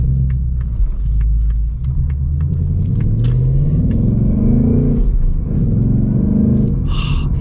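A deep, loud V8 engine of a 2025 Ford Mustang GT manual rumbles steadily throughout, its pitch rising and falling as the throttle is partially pressed and eased, with no talking.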